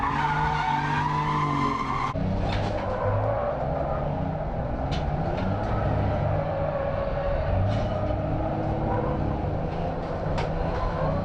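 A Mazda 323 drifting with an angle kit: a continuous strained engine note and long tire squeal, with the pitch rising and sliding as the car holds its slide. It starts with a sharp shift partway in and stays loud throughout.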